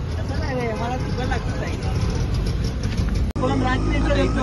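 An auto rickshaw engine putters steadily close by while a person talks over it throughout.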